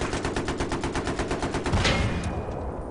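Battlefield 3 multiplayer on Damavand Peak: rapid, evenly spaced automatic gunfire rattles loud and close, then a heavier tank cannon blast hits the player's vehicle and the noise thins out, with no talk.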